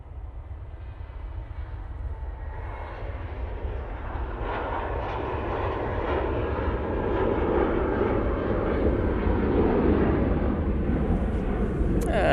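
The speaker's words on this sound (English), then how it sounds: "And that Lufthansa is off to Frankfurt." A Lufthansa airliner takes off from Manchester Airport bound for Frankfurt, its jet roar swelling steadily and staying loud and broadband throughout, with no one talking.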